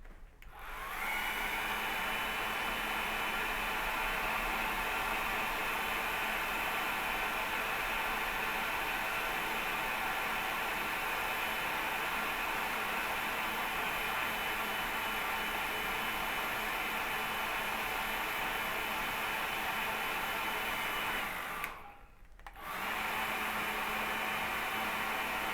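A hair dryer blows on a candle decoration to dry it, giving a steady, close whooshing drone that runs nearly unbroken, with one brief dip before it resumes.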